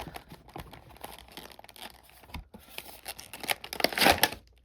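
Cardboard-and-plastic action figure card packaging torn open by hand, with close crinkling and ripping that builds into a louder tearing burst near the end.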